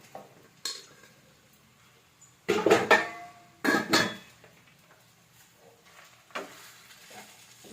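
Vegetable fried rice stirred and tossed in a pan at home, with a couple of clattering bursts of spatula scraping against the metal around the middle of the clip, then quieter scrapes amid near silence.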